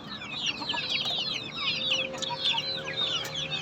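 A hen clucks repeatedly in short, uneven bursts at close range, with a rooster or other fowl sounding nearby around a parked vehicle on a chicken farm.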